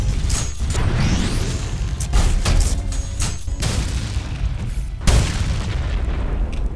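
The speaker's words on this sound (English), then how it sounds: "You could step on them for an explosion" Repeated heavy explosions from stomping on enemies in the video game ULTRAKILL, several loud booming bursts with sharp onsets spaced irregularly over a rumbling backdrop, no talk over them.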